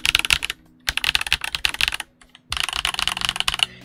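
Fast typing on a Redragon K656 Garen Pro mechanical keyboard, deep-toned clacking keystrokes in three dense bursts separated by short pauses, close and crisp with no talking.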